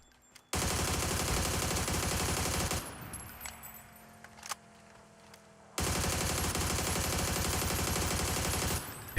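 Loud, dense gunfire from a PUBG match, mostly sustained rapid bursts that fill two long stretches, with a quieter gap in between holding a few isolated sharp cracks.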